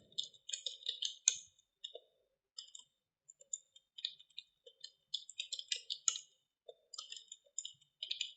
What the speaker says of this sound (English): Type in a password.